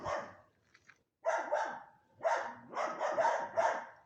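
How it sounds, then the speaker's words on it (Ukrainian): Several dogs shut in pens bark in quick bursts, a short yelp first, then repeated rounds of loud, fairly close barking. "А всі ж гавкають, всі ж закриті, всі ж гавкають"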